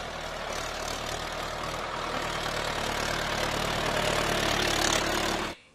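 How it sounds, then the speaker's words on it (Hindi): A tractor engine idles steadily and close by with a deep, even rumble, holding at a constant level for several seconds before cutting off abruptly at the end. "ये है प्यारे बच्चों ट्रैक्टर।"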